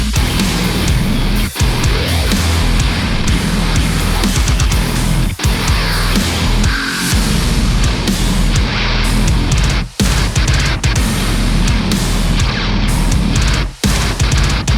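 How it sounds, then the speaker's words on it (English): Modern metal guitars run through automated dubstep-style effects, loud and dense throughout with heavy distorted low end, wobbling filtered textures and several abrupt stutter cuts into near-silence. "we can use effects and automation to make guitars sound like this."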